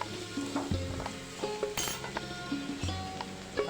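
Ginger-garlic paste sizzles in a pan for Chinese-style fried rice, a soft frying hiss broken by clinks and scrapes of a metal spoon against the pan, fairly quiet and close.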